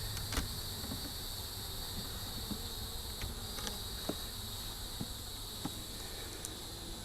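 Honey bees buzz at an opened long hive, a steady close droning hum throughout, with faint clicks and knocks from hive handling.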